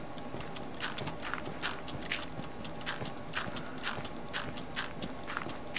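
Horse hooves clip-clop in steady, repeated steps within the Minecraft video game, a dark horse with some white markings walking nearby at a moderate, even loudness across the whole stretch.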